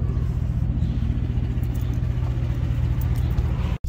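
Car interior while driving on the road at dusk, a steady low engine and road rumble heard from inside the cabin, continuous and fairly loud, cut off abruptly at the end.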